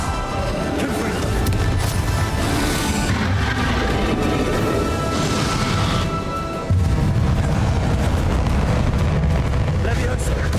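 Spell combat in Hogwarts Legacy, with the fiery Confringo blast cast among other duelling spells: booming explosive bursts and crashing impacts over a dense, loud game mix that shifts abruptly partway through.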